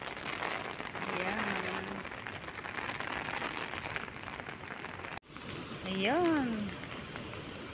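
Heavy rain pours steadily during a storm in Hong Kong, a dense hiss of drops on surfaces, with a voice calling out briefly over it.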